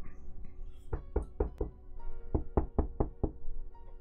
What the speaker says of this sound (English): Knock, knock.